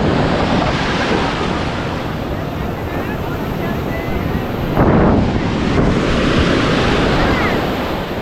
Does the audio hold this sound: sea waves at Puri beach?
yes